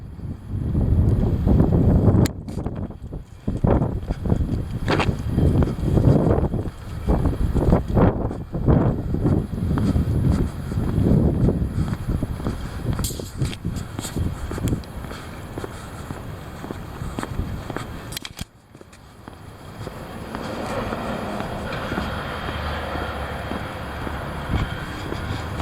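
Heavy wind buffeting outdoors, loud roaring gusts with rumbling and clattering bursts that ease into a softer steady rush near the end.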